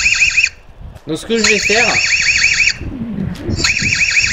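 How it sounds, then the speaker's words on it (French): An EZVIZ security camera's electronic alarm sounds a rapid, warbling chirp in repeated bursts, with someone speaking during a pause between them. "J'ai désactivé l'alarme en cliquant là sur les secondes."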